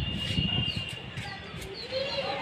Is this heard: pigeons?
yes